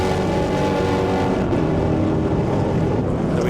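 A GT race car at Hampton Downs climbing a hill, a steady droning engine roar at constant loudness with no pauses.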